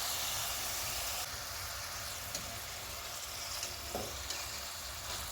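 Sliced okra (lady finger) pieces deep-fry in hot oil for crispy bhindi chips, giving a constant loud, close sizzle and hiss with a few clinks of stirring and no talking.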